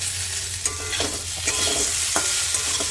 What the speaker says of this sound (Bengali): এইভাবে কিছুক্ষণ পরপর নাড়া দিতে হবে